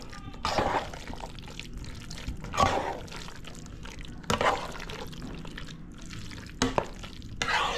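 A mixture of egg and breadcrumbs gets stirred in a bowl, with soft wet scraping that swells in several strokes over a low background and a few sharper knocks between them.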